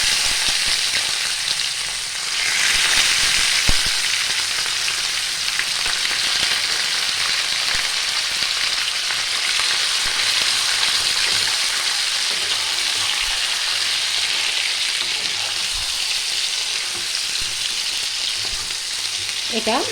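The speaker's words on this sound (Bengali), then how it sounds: "ভালো করে তেলটা গরম হবে, হয়ে গেছে। এবার দিয়ে দেবো আমি মটন এখানে 700 গ্রাম আছে।" 700 grams of mutton for Rogan Josh sizzles and crackles steadily in hot oil, a dense frying hiss throughout with occasional stirring clatter.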